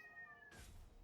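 A single quiet cat meow rises and falls, then a brief rustling bump follows, all faint and close indoors with no talk.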